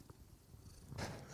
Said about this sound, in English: We got a purr.